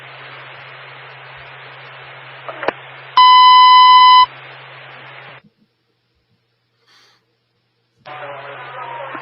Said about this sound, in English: Yeah, Buck, 3162, transmit the third alarm